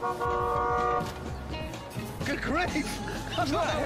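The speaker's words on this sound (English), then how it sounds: "That's a train." A loud, steady horn blast with stacked tones for about a second, followed by excited voices talking over rumbling background noise.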